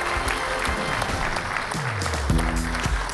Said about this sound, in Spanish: Fuerte el aplauso para Sol y para Beto.